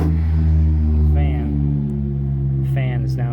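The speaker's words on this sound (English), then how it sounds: "fan is now making some kind of a noise," Norwood furnace fan in a 2015 Jayco RV, recently cleaned after a mouse invasion, drones loudly with a steady low hum and harmonic whine, while a person speaks briefly over it.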